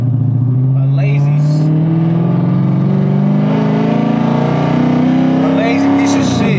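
A car with a 5.7 engine accelerating hard in third gear: a loud, close, steadily rising engine drone and rev that climbs in pitch over several seconds before easing off at the end.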